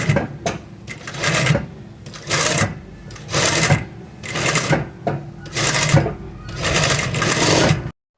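A sewing machine runs in repeated bursts, stitching gathers into fabric for an A-line frock, its motor whirring loud and close with brief pauses between runs.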